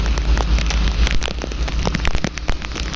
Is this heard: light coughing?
no